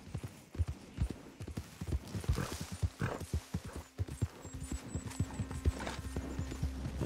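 Rhythmic clip-clop of horse hooves on hard ground in the video game Red Dead Redemption 2, steady and moderately close, later joined by a low droning hum and faint high tones.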